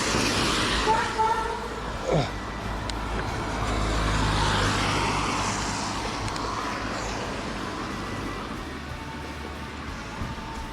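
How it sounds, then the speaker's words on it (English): Motocross motorbikes pass by on a road nearby, one rising and fading with a whining pitch sweep while others rumble in the background. "Oh, motorbikes. Motorbikes."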